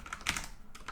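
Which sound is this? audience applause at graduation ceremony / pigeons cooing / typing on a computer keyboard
typing on a computer keyboard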